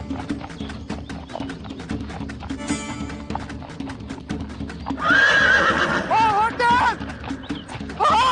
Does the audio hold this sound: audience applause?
no